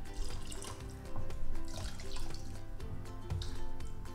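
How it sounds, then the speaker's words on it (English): Stock poured into a saucepan of vegetables for potato soup, a continuous splashing, gurgling liquid pour heard up close with no talking. "Pour in the stock into your saucepans. Cover your veggies."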